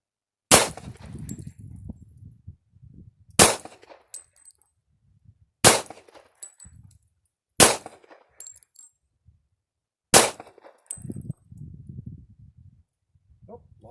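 Five loud, sharp pistol shots ring out one at a time at an outdoor shooting range, fired from about 6 yards at a target and spaced a couple of seconds apart. Each crack is followed by a short echo and low handling noise.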